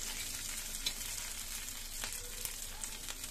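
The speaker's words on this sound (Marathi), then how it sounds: "2 मिनिटं मिरच्या परतून घ्यायच्या आणि मग शेंगदाणे टाकायचे।" Green chillies and peanuts frying in a pan for thecha, a dense, steady close-up sizzle with faint crackles and occasional soft stirring scrapes, no voices.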